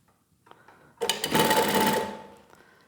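An industrial walking foot sewing machine, model 1903SX, stitches a doubled start tack, running forward and back in a loud, steady close burst of about a second after a few faint clicks, then stopping.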